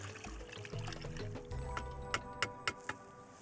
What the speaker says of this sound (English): pour the marinade over the lamb